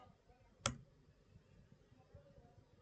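A single Enter key press on a computer keyboard makes one sharp, close click in a quiet room, followed by faint low background noise.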